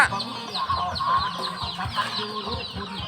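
A chicken clucks close by in repeated short, irregular calls, loud and alone.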